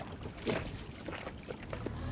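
Water sloshes and splashes against a small hull while the boat moves along, with a faint steady engine hum behind it and no voices.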